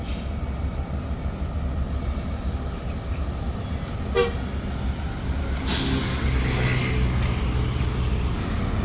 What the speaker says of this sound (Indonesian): Nah ini dia busnya sudah datang teman-teman.